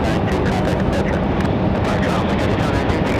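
Embraer E190 airliner on final approach to Raleigh Durham International, a loud continuous roar of jet engines with a rushing, rumbling texture throughout.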